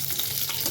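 Small prawn fritters fry in hot oil in a home kitchen, a close, continuous crackling sizzle heard alone and briefly.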